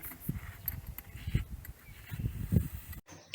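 Geese, young tame goslings, honk repeatedly at a moderate distance, several short calls scattered over a low outdoor background.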